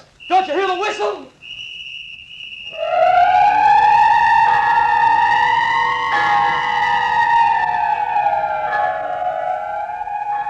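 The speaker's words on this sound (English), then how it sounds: "Don't you hear the whistle?" A shrill whistle blows as a radio drama sound effect, first in quick warbling bursts, then as a long sustained wailing tone that bends slightly in pitch, loud and close with no talk over it.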